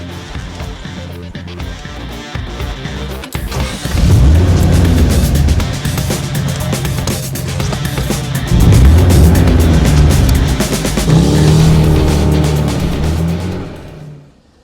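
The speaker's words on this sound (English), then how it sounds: "let's hop in, let's go for a drive, and let's check out this absolutely gorgeous 1959 Chrysler Windsor" A 1959 Chrysler Windsor's engine drones steadily on a drive, its deep low rumble swelling with each acceleration and easing between shifts, loud and close from inside the car with no talking.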